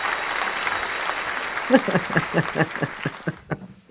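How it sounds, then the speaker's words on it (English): A soundboard applause effect with a magical twinkle, bright chime tones followed by a burst of clapping that trails off, with faint chuckling underneath. "they get the twinkle and the applause at the same time"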